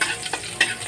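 Garlic sizzling in hot cooking oil, a steady frying hiss with a couple of brief louder bursts as it is stirred, no voices.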